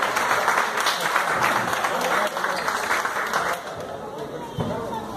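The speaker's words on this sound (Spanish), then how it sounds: "El aplauso, por favor, para el rival, Andrés, ingeniero Villamán." Audience applause at a boxing weigh-in in Cancún: steady, dense clapping from a crowd that holds loud throughout and eases slightly toward the end.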